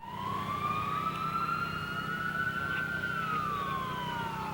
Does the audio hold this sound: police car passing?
yes